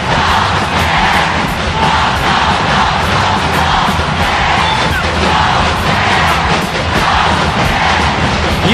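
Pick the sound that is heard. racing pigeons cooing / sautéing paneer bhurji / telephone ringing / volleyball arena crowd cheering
volleyball arena crowd cheering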